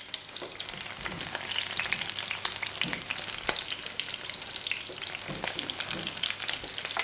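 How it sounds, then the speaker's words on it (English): Courgette halves fry cut side down in hot oil, giving a steady, busy sizzle with crackling pops and occasional soft scrapes of stirring, close and continuous without any voices. "make sure that the cut side of the courgette is in contact with that hot oil"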